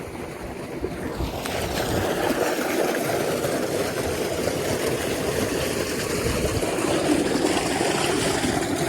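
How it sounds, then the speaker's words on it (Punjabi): Constant rushing water fills the clip, a broad steady wash that swells after the first second and stays loud throughout. "ਪਾਣੀ"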